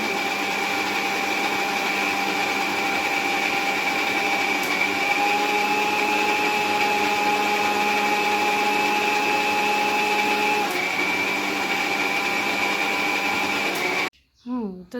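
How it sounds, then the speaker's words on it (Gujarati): A mixer grinder whirs steadily while grinding garlic, chili and onion into chutney in a village kitchen, a loud unbroken motor drone lasting many seconds before cutting off abruptly near the end. "મિક્સરમાં દળવાનું શરૂ કરી દીધું છે."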